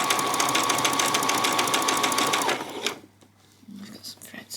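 A sewing machine zigzag-stitches around the edge of a peasant skirt, a fast rhythmic mechanical whir for a couple of seconds that then stops, leaving quiet handling sounds.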